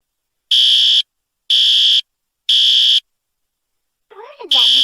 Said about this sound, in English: Sounds like someone pulled the fire alarm in the fitness club.